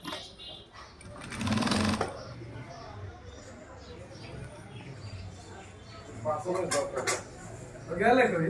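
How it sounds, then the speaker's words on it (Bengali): Sewing machine stitching a man's shirt, running in short bursts with rattling mechanical whirs between quieter pauses, fairly close and moderately loud, with a voice speaking softly at times. "তো এখানে দেখতে পাচ্ছেন আর কি খুব সুন্দরভাবে সেলাই করা হচ্ছে"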